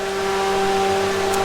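3.2 VR6-swapped two-door Mk4 on a dyno, its engine holding a steady, loud drone with a constant hum and no change in revs throughout.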